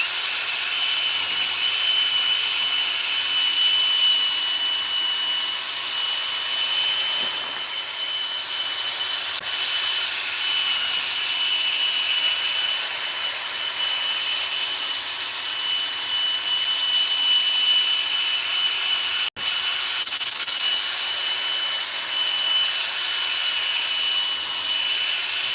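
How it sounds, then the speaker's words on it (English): A power drill with a 3000-grit sanding disc whirs continuously at a high pitch while sanding a car headlight, loud and close, with a brief interruption near the end. "why wouldn't a drill sanding disc work?"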